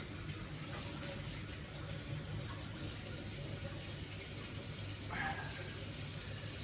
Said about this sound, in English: Just need to wash my hands